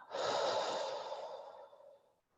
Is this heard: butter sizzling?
no